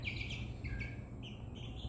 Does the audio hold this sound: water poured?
no